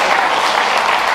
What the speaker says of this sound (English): I want you to clap for yourselves